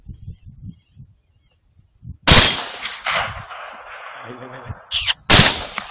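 A rifle shot rings out during a predator hunt for a fox, one sharp loud crack with echo, then a second blast near the end, with hushed talk outdoors before and between.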